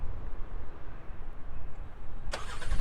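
A low engine rumble, then a sharp mechanical click as the engine of a 2021 Honda Pilot Special Edition turns over and starts by remote start, its idle swelling louder nearby.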